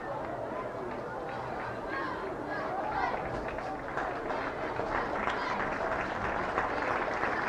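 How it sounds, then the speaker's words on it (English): Home fans at a high school football playoff game applaud after an injured player is helped off the field, a broad steady clapping and crowd murmur that swells slightly midway, with an announcer talking over it. "nice round of applause from the home fans"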